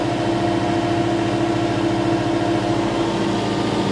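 A tractor runs a hydraulic auger boring into the ground, its engine giving a loud, steady low drone with a throbbing rumble throughout and no voices.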